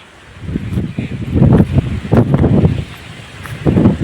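Low, gusty wind rumbles and buffets against the microphone in uneven surges for a few seconds.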